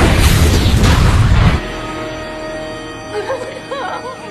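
A loud, broad explosion from an electrical strike in a Final Destination film scene rumbles for about a second and a half, then cuts to a quieter tail with faint tonal sounds and warbling squeals.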